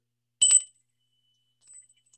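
A small bell gives one sharp, bright ding that rings out briefly, followed later by a faint second tinkle in near silence.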